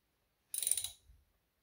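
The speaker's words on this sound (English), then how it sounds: "So what I'm going to do is tighten the banjo bolt just by hand." Brief metallic ratcheting on a Ram 1500 pickup as a brake caliper banjo bolt with copper crush washers is snugged down: a quick run of close clicks lasting about half a second, then a faint knock, quiet and with no talk.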